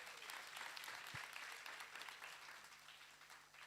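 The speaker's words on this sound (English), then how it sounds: "Can we give them a round of applause again?" Faint, steady applause from an audience at a church farewell function for a pastor and his wife, a soft continuous patter of many hands heard from a distance.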